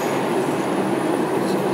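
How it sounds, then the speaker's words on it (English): Northbound 5 subway train in New York running between stations, a loud, steady roar of wheels and car rumble with no pauses and no voices. "heading northbound on a 5 train right now"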